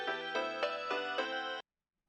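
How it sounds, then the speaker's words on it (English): A phone rings in the visual novel Steins;Gate 0 with a synthetic, buzzy tone pulsing in five quick repeated bursts over about a second and a half, alone and then cutting off into silence. "And then my phone started to vibrate."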